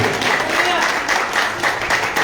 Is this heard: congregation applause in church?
yes